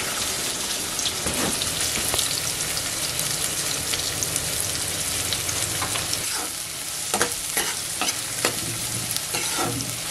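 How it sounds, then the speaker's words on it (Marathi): Chopped onion fries in hot oil in a pan, a dense steady sizzle with occasional crackles and stirring scrapes, close and continuous with no talk. "तेल तापलंय. कांदा घालते."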